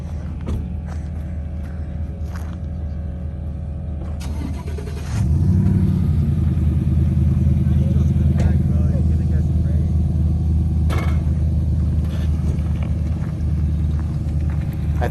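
A vehicle stuck in two-wheel drive revs up with its tires spinning, giving a loud, sustained engine rumble that begins partway through, with people talking nearby.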